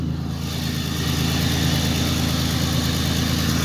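A supercharged 1999 Pontiac Grand Prix GTP with a cold air intake idles after a cold start, giving a steady, loud low rumble with a constant whine on top, close and unbroken, with no voices.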